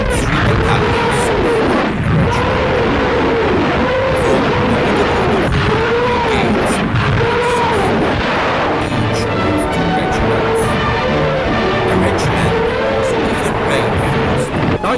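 Panzerwerfer 42 armored rocket launcher batteries fire in wartime battle newsreel footage, a continuous dense roar with rising whooshing rocket salvos and booms, heard under a German narrator's voice.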